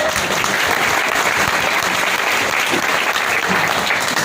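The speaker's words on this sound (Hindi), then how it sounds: "अगर मेरी कोई बात अच्छी लगे तो बिना रोक टोक के ताली बजा देना। देखो बजा तो पहले।" An audience at an LIC meeting claps on request, giving dense, sustained applause from many hands that stays loud and even from start to finish.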